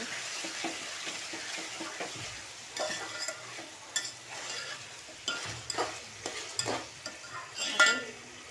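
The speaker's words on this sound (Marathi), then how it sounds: "आता आपण त्यात टाकूया टोमॅटो आणि पुदिना आता हे छान परतून घेऊ" Tomato and mint sautéed in hot oil with chicken for a chicken pulao, a soft sizzle under repeated scraping and stirring strokes of a spoon against the pan, close and moderately quiet.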